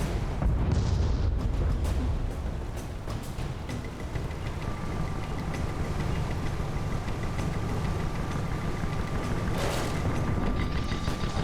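Mortars and artillery pounding away during an airship battle in a video game, with booming rumbles and engine drone running steadily and loudly throughout and no clear gaps.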